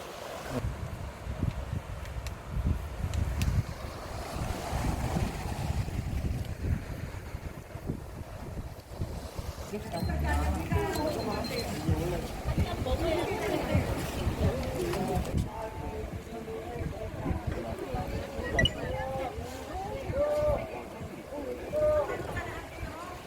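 Rough sea waves and strong wind at the Yongmeori coast on Jeju, closed to visitors because of high surf, roaring in a steady, loud wash with heavy wind buffeting the microphone and a voice talking over it.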